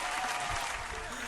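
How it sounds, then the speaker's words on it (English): Short burst of applause from a small group in a casual studio setting, dense and steady, without any talking over it. "can we get an applause, bro?"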